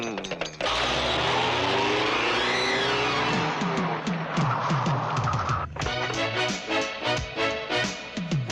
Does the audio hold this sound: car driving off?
yes